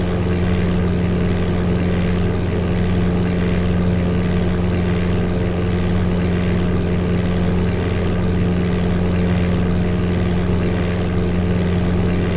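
Steady, loud drone of a propeller airplane engine in the Flight Simulator 95 game during a VFR flight from Rome to Pisa, a constant unbroken hum with no talking.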